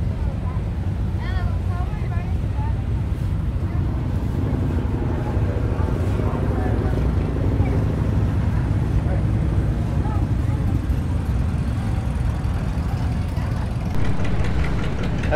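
An old gasoline tractor engine, a Super MTA, idling at an outdoor old gas tractor show in Michigan: a steady, close low rumble with wind buffeting, and people talking over it.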